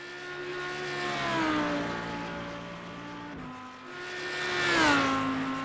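Audi GT3 race car in iRacing, its engine droning steadily with clear harmonic tones that dip as it lifts off around mid-pass, then climb loudly again before easing, heard alone without talk.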